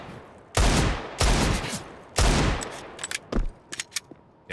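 AWP sniper rifle fire in Counter-Strike during an ESL Challenger Katowice 2023 grand final match: several loud, sharp gunshot blasts with decaying tails, followed by a patter of quicker, lighter shots, close and without talking.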